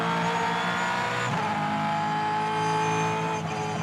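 Supercars race car engine at Bathurst climbing the hill in third gear, a loud sustained high-pitched drone held steady with only slight pitch shifts, no talk over it.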